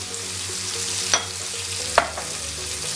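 Onion and garlic frying in rendered pork fat, a steady broadband sizzle throughout with a couple of brief clinks or stirring knocks, close and moderately loud, no talking.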